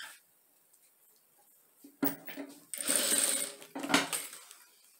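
A sewing machine stitches a seam across a clear plastic pouch: after a quiet couple of seconds, close bursts of fast mechanical rattling start and stop in short runs.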